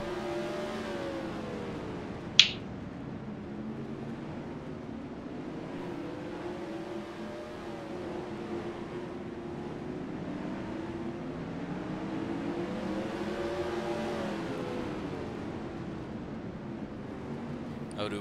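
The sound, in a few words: race cars lapping at Rockford Speedway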